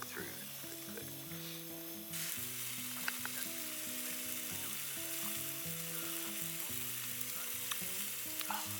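Thin slices of meat sizzle steadily in a pan over an outdoor fire on a frozen lake in northern Sweden, with a constant close frying hiss, occasional stirring scrapes, and low tonal sounds running underneath throughout.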